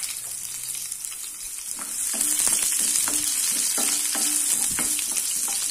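Chopped shallots hiss and sizzle in hot oil with popped mustard seeds and urad dal, a steady fry that grows louder after the shallots go in, with a few clinks of stirring on top.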